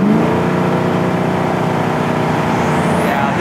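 A 1969 Camaro convertible with fuel injection pulls hard at speed, its engine droning loud and close with a steady tone that climbs slightly, and a thin whistle rising near the end, with no speech.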